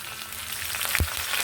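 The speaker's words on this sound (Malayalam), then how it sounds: "കപ്പലണ്ടി മസാലയിലേക്ക് വെളുത്തുള്ളിയും കറിവേപ്പിലയും ഇട്ട് കൊടുത്ത് നന്നായി ഇളക്കി യോജിപ്പിക്കുക." Garlic and curry leaves are stirred into a peanut masala frying in a pan, giving a brief steady sizzle with a single stirring knock, close and with no talking.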